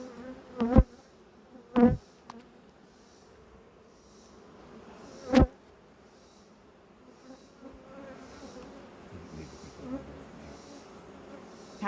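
Honeybees buzz steadily around an open hive during beekeeping, a low continuous drone, with a few sharp knocks and clatters from hive handling.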